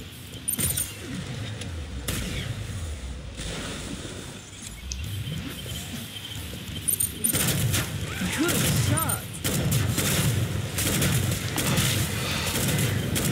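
Weapons fire in the shooter game Killing Floor 2 comes as bursts of gunshots and booms over a busy, noisy game soundscape, with someone talking over parts of it.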